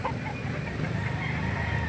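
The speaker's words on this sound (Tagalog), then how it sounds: "mga kaparadang manok dito" Chickens at a livestock auction market in Lipa, Batangas, clucking and crowing together in a dense, steady, loud din with no pauses.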